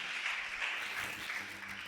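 A church congregation claps together during a sermon, a steady wash of applause that fills the whole moment at moderate loudness with no voice over it.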